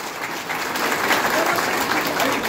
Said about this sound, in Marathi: माननीय एकनाथजी शिंदे साहेब यांच्यासाठी आपण जोरात टाळ्या वाजवायच्या आहेत